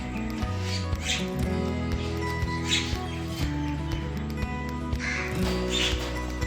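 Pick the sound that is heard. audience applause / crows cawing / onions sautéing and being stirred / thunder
crows cawing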